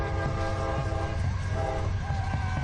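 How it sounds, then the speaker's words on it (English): A train passes close by with its horn blowing steadily throughout, layered over the rumble and clatter of rail cars, heard during an evening soccer match in Miami. "The train going by."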